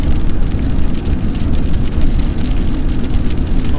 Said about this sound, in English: It's starting to rain a little heavier now.